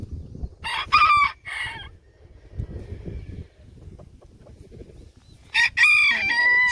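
Backyard farm chickens on green grass crow and cluck in a few loud close bursts at the start and end, with quieter scratching and rustling between.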